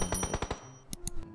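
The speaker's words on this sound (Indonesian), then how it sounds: "Nih teman gue nembak." In a battle-royale video game, a teammate's automatic gunfire comes as a rapid burst of sharp shots, then after a short gap two more isolated shots, loud and close, with no talk over them.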